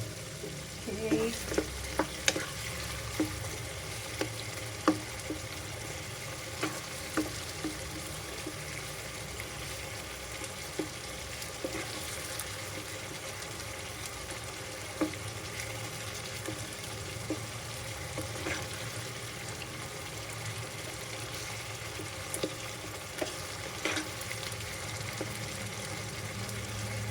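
Tomatoes and bitter gourd cook in a covered pan for Kapampangan-style ampalaya, giving a faint steady sizzle with occasional small clicks and pops throughout.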